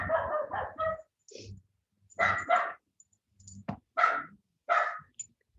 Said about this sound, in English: when I hear the neighborhood dogs like barking back and forth